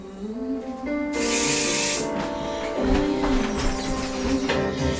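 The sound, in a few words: aerosol hair spray spraying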